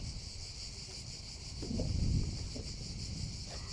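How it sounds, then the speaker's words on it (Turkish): Wind rushes past the microphone at a beehive with a steady hiss, swelling into a low buffeting gust midway before easing back. "Bakın rüzgarlı bir hava."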